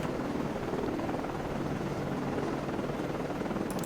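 Helicopter rotor and engine drone in the submarine game Cold Waters, a continuous dense whir held at steady loudness throughout.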